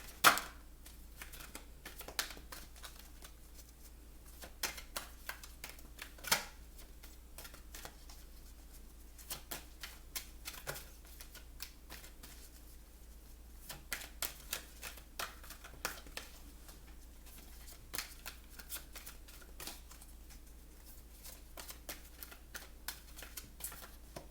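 Tarot cards are shuffled in a long run of soft, quick riffling snaps and taps, close and fairly quiet over a low steady hum, with no talking.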